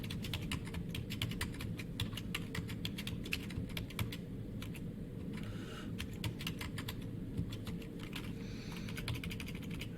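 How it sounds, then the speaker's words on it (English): Keys clatter steadily on a computer keyboard while numbers are typed into a table, a dense, continuous patter of close, fairly quiet clicks with no talking. "now I'll type in all my x's"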